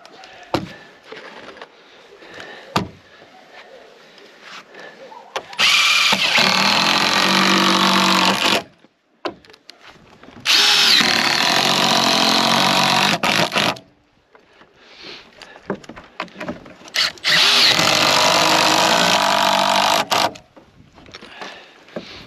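A power drill drives screws through boards while battening a roof for Polish-style slate sheets. Three sustained whirring runs of a few seconds each stand out loudly, separated by knocks and handling noise.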